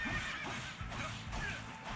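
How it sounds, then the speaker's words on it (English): A horse whinnies in the Fire Emblem Warriors video game, two or three loud neighing calls close up over game noise and hoofbeats. "Hitting an innocent horse."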